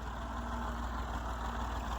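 A tractor engine idles nearby with a low, steady throbbing rumble that holds even and continuous, with no voices over it.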